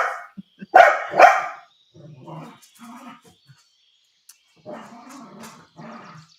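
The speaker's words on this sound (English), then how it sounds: "playing with the ball and barking at the ball" A dog playing with a ball barks twice sharply up close, followed by softer yips and grumbles at intervals.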